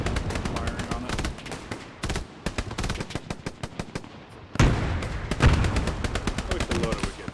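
Rapid gunfire aimed at a light tank in the Hell Let Loose video game: loud, sharp repeated shots in quick bursts with short pauses, heavier booming impacts joining in the second half, and a voice faintly present.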